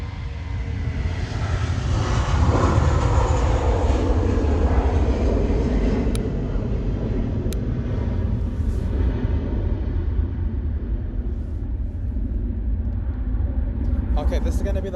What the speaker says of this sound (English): LA flight landing south.